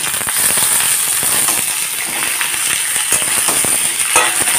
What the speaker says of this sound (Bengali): এখন আলুগুলোকেও লাল করে ভেজে নেব